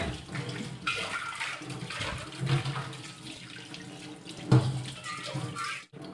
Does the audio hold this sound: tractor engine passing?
no